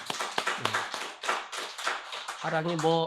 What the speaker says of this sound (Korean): 한번 박수 쳐주세요